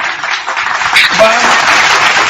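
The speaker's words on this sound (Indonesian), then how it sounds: "Tepuk tangan untuk itu." An audience at a religious sermon breaks into applause, a dense spread of many hands clapping that fills the space alongside other crowd sounds.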